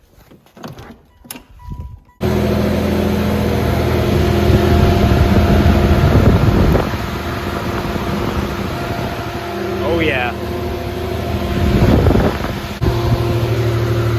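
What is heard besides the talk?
car radiator cooling fan running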